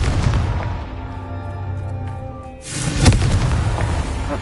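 A Confringo blast spell in Hogwarts Legacy bursts with a loud booming explosion, a rumbling roar that fades, then a second sharp, heavy blast a moment later, close and with no talking.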